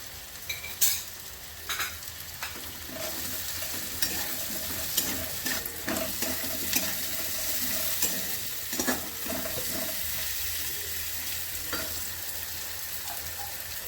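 Ground cumin and coriander sautéed in a pan for a cabbage curry, with repeated spoon scrapes and clatters over a continuous close sizzle.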